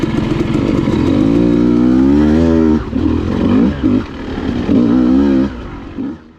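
2023 Beta 200 RR Race or Beta 390 RR-S dirt bike engine on wooded singletrack, loud and close, revving and pulling hard for several seconds with brief throttle dips before easing off at the end.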